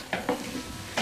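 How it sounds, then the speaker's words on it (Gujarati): Bottle gourd and ridge gourd curry tempering sizzles in a pot over a wood-fired clay stove, with a few quick stirring scrapes in a brief, fairly quiet burst. "દૂધી ગલકાનું શાક છે એનો વઘાર થઈ રહ્યો છે એકદમ ચૂલા ઉપર"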